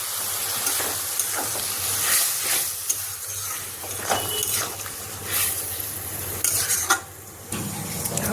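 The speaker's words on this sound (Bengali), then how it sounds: "দিয়ে দিচ্ছি একটু জল।" Hot pan of frying flat bean (sheem) vegetables hissing steadily as water is added, with scraping spoon strokes and pot clatter throughout, close and fairly loud.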